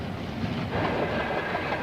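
A 1970s Pittsburgh & Lake Erie freight train rumbles steadily down the track close by, a broad continuous roar of rolling cars with faint clickety-clack, loud and alone without voices.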